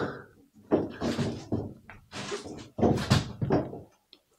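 Several rattling thumps and scrapes from someone tugging at a worn, stuck door on a camper van, close by in a short series of uneven bursts.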